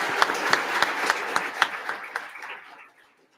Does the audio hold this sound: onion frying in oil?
no